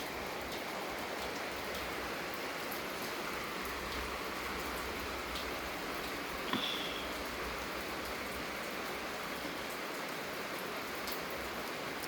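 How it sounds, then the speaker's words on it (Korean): Steady, even hiss of light rain falling outdoors, a dense continuous patter with no voices, one brief faint chirp midway. "그래도 비가 많이 안 오고 딱 적당하니 기분 좋게 내리니까"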